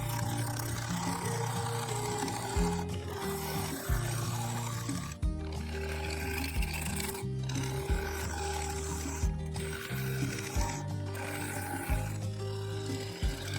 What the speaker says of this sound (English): with a sharp gouge I was able to take some reasonable cuts